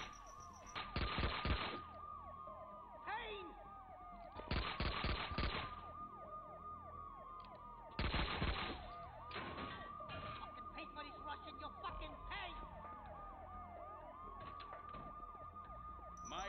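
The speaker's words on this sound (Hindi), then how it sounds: "आप सुन सायरन की आवाज़ सुन ही सकते हो" A police siren in the Max Payne 2 video game wails in repeated rising and falling sweeps, loud and steady across the whole stretch, with sharp bursts of noise breaking in at intervals.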